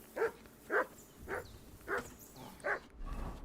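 Dog in the video game Kingdom Come: Deliverance 2, five short soft whimpering yelps spaced about half a second apart, faint and alone.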